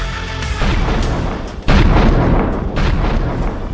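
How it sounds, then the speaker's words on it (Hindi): Homemade country bombs go off in a narrow street in Prayagraj, two loud, sharp booms in quick succession, each followed by a rumbling, echoing tail. "एक के बाद एक ताबड़तोड़ 2 धमाके होते हैं"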